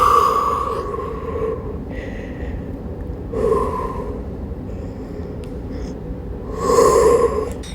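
A person holds child's pose during a Pilates session and takes slow, deep breaths: three audible airy exhalations spaced a few seconds apart, close and clear, with quiet pauses between them.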